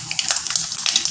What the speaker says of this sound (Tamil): இப்போ கடுகை போடுவோம். காஞ்ச மிளகாய் போடுவோம்.